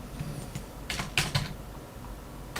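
Keystrokes on a computer keyboard while entering data into a spreadsheet, a few soft clicks clustered near the middle over a faint steady background hum, with no talking.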